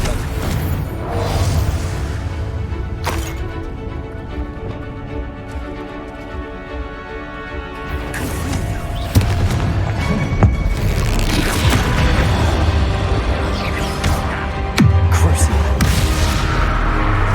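Confringo blasting spell explosions in the Hogwarts Legacy video game, several loud booms and bursts through a dense, continuous game soundtrack with music and effects, the sharpest hits near the middle and end.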